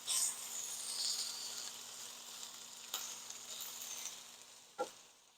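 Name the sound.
potato skins sizzling in a skillet as they are flipped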